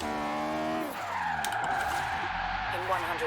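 Tires of an Abarth 500 Esseesse in Forza Horizon 3 squeal in a long sideways handbrake skid, a steady screeching tone over engine drone with shifting pitch; a voice briefly speaks over it.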